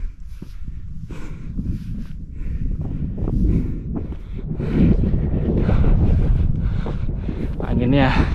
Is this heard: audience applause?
no